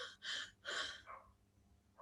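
A voice imitates deep, rapid breathing, as in tachypnea, with a few quick, forceful breaths close to the microphone followed by a fading exhale.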